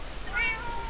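A Minecraft cat lets out a single short, clear meow in the middle, standing alone over a quiet game background.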